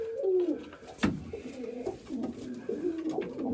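Old-breed Mykolaiv pigeons coo in soft, low, throaty rolls close by, one call overlapping the next, with a single sharp knock early on.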